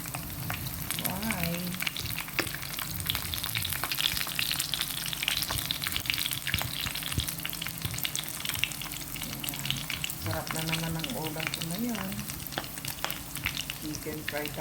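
Chicken fries in a pan with a steady, dense crackle and sizzle that runs unbroken throughout, with occasional louder pops and a faint voice now and then.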